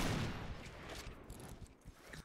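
Rapid gunfire from a Point Blank online shooter match, sniper and automatic shots cracking in close succession through dense noise, with no talk over it.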